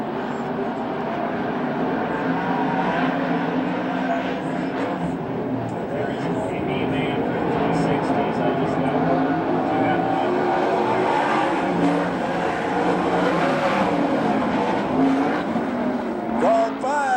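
360 sprint cars racing on a dirt track at a USAC National/CRA sprint car event, a steady loud roar of several engines throughout with shifting pitch as cars pass, under announcer talk.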